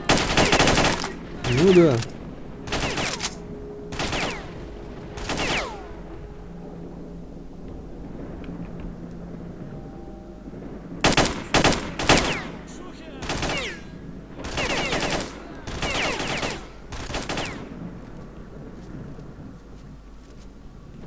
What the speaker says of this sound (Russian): Вот он откуда-то снизу стреляет.